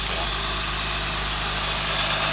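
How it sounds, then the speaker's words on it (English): Acura TL Type-S with a precat delete idling, a steady low exhaust rumble with a deeper bass note, constant and close with a hiss of broadband noise over it. "when you started it up, there's just more bass in the exhaust"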